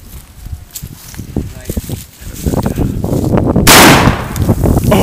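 A single loud shotgun blast fired at ice while ice fishing, a broad burst arriving partway through amid rustling and handling noise outdoors.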